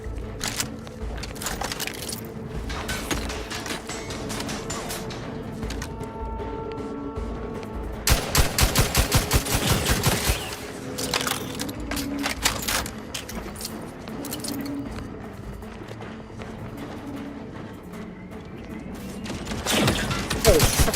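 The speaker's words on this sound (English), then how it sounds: "Oh, we're getting shot at." Enemy gunfire in the video game The Outer Worlds 2, with scattered single shots and rapid automatic bursts, loudest in a dense volley near the middle, along with clicks and metallic clatter; occasional voices come through.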